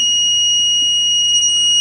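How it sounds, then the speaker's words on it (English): Start-failure alarm on an FG Wilson DCP-10 generator control panel: a steady, piercing electronic tone that holds continuously at a loud, constant level, with no talking. "And at that point, we'll get an alarm."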